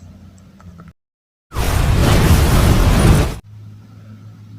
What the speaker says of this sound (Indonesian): selang gas rumahnya terputus sehingga mengakibatkan gas meledak